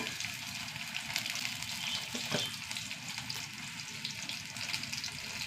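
Whole coriander seeds and dals frying in hot oil in a pan, giving a soft, continuous sizzle and crackle with a brief stirring scrape partway through, quiet and even throughout.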